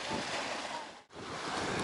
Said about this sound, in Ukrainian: Хвилі подимаються